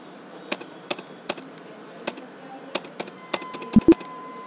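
Computer keyboard typing while entering data in Tally Prime: a dozen sharp, separate key clicks at an uneven pace, close and clear, ending in two heavier keystrokes, with no voice.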